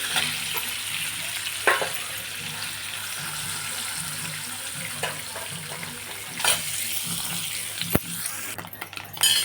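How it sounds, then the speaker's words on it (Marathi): Paneer shallow frying in oil in a pan for palak paneer, a steady close sizzle throughout with occasional clinks and scrapes of a utensil, no voices. "थोडेसे पनीर आपल्याला शालो फ्राय करायचे"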